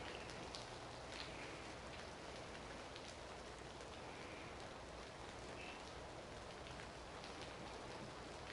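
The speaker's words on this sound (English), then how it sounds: "I like the rain. It's really nice. It's a good sound." Rain falls as a faint, even hiss of steady drops that continues unbroken with no talking.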